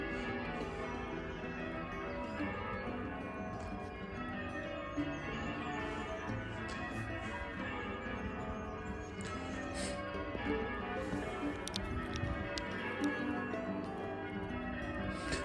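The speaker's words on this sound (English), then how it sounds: "How many of you are about to give up watching this video now because of the sheer amount of the bells?" Church bells ringing through Hillsborough Forest, a continuous dense wash of overlapping peals sustained at steady level for the whole stretch, with no voices.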